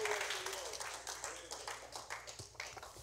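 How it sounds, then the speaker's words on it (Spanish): Church congregation clapping, a moderate patter of many hands that gradually thins out, with some background voices mixed in. "Dele su ofrenda de palmas con todo su corazón"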